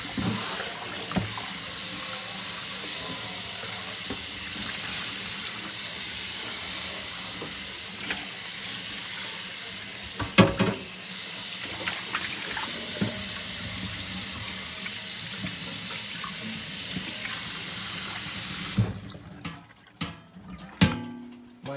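Tap water runs steadily into a kitchen sink while food is rinsed for a corned beef and cabbage meal, a loud continuous hissing splash with occasional clunks, then cutting off near the end into quieter handling noises.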